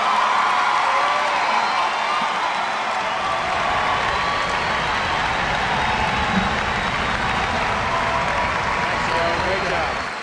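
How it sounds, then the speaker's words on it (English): A large crowd at a high school graduation ceremony for the class of 1999 applauds in a dense, sustained wash, with cheers, whoops and chatter mixed into the clapping throughout. "Ladies and gentlemen, would you join with me in a round of congratulatory applause?"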